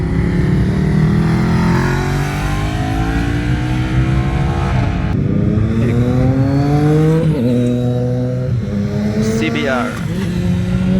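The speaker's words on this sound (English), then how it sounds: "Damn, that's loud. That's a Ducati Panigale." Loud Ducati Panigale superbike passing on a road, a heavy engine roar with rising and falling pitch sweeps as it goes by, continuous and close throughout.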